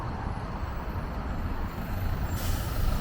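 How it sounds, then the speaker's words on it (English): A city bus rumbles up close on a Guadalajara street, engine and traffic noise building steadily, with a sharp hiss of air brakes near the end. "here's the bus, guys"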